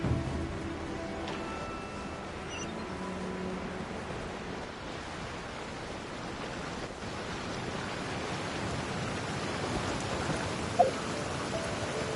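Steady rain falls throughout a scene in the Genshin Impact video game, a dense even hiss of drops with a faint soft tap near the end, no voices over it.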